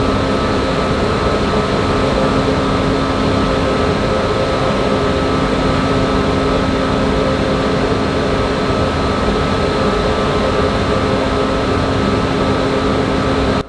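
A newly installed corn grain dryer running on a rainy afternoon, a loud, steady mechanical roar with a constant fan-like drone and hum that holds unchanged throughout, with no voices.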